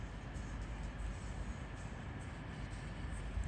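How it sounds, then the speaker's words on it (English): Steady low rumble of a long train rolling slowly into London St Pancras station, continuous and fairly loud with no voices. "my train pull into St Pancras"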